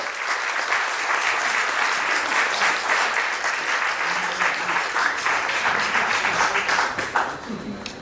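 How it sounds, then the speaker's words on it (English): At the inaugural function of a geriatric care center in Pune, the audience applauds a doctor with a long, full round of clapping that holds steady before tapering at the end. "Give a big round of applause"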